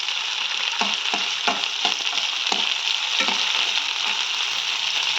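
Chopped tomato and brinjal rice mixture frying loudly in a pan, a steady close sizzle broken by repeated rhythmic scrapes of a spatula stirring, with no voices.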